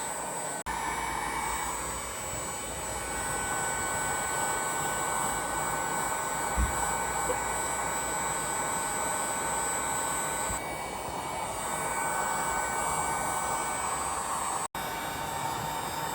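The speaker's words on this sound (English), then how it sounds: "make sure you move this heat gun side to side, and it definitely works" Heat gun blowing hot air over plastic trim on a Toyota RAV4, a steady loud whooshing roar with a constant hum that runs without pause.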